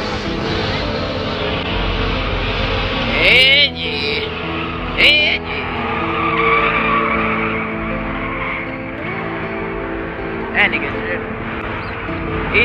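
A drifting car at a car meet, its tires squealing in sharp bursts over a steady engine roar, with several people talking and shouting close by throughout.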